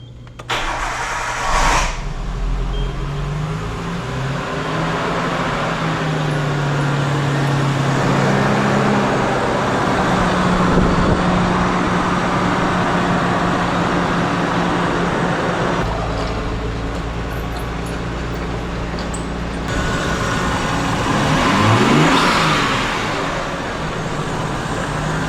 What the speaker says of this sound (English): So now we're gonna turn the car on and see if we can hear the turbo any better.